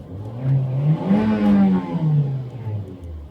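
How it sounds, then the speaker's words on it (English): A 2015 Nissan Juke Nismo RS turbocharged engine revs up and accelerates, its pitch rising then easing off with a whooshing, whirring turbo tone, loud and close. "you can hear the turbo sort of kick in"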